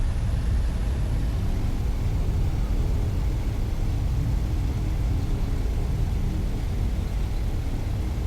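Reverse thrust on a PMDG DC-6 piston airliner in a flight simulator after landing: a steady, loud, broadband rumble with a heavy low-end roar that stays constant throughout, with no speech over it.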